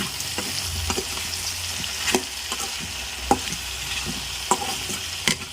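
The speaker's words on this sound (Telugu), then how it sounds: "పసుపు కూడా వేద్దాం కొంచెం కొంచెం మనం ఇలా ఈ రకంగా కలిపి చేస్తే" Turmeric being stirred into a ridge gourd and tomato chutney in a pan, with a steady soft sizzle and repeated scraping strokes of the spoon against the pan, close and moderately loud, no voices.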